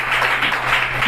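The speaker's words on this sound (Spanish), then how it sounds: "Así que un aplauso al Señor" A congregation claps during a church service, a brief burst of loud, close applause over a low steady hum.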